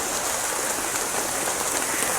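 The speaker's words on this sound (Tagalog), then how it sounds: "Muulan po yan, kala nyo lang maaraw." Steady rain pours on a mountainside, a dense, even hiss of drops on surfaces that stays loud and constant throughout, with no voices.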